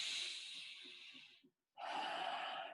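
A slow, deep breath fills the belly and then releases in a long airy exhale, with a short silent pause before the next breath, close and soft.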